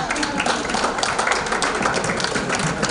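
At a summit side event, an audience applauds with sustained, even crowd clapping that holds at a constant level throughout.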